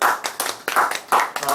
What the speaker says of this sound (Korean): 은혜를 주신 하나님께 큰 박수로 영광 돌려드리겠습니다.